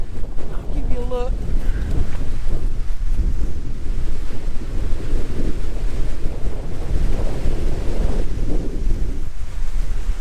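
Strong wind at a beach campsite roars loudly and continuously, buffeting the microphone with gusts over the wash of ocean surf.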